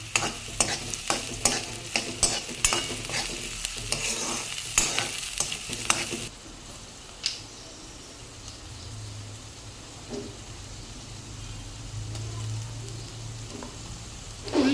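Green chillies fry in a pan for a gongura chicken curry, first with busy scraping and stirring over a bright sizzle, then settling into a softer, steady frying hiss.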